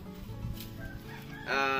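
Chickens cluck in the background, then a rooster crows loudly and close at the end.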